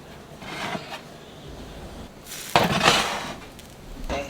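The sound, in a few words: basting lemon garlic butter chicken in the pan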